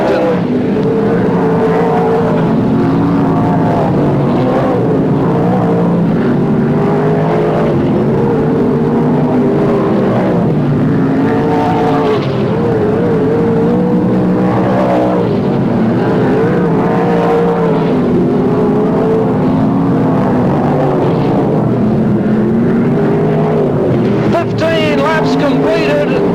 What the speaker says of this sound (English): Completed in the final sprint car main of the season, and now Dennis Mowat gets by on the inside